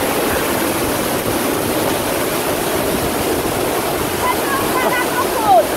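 Waterfall in a forest at Nísia Floresta, Rio Grande do Norte, pouring as a steady, loud, close roar of falling water, with a brief voice rising over it near the end.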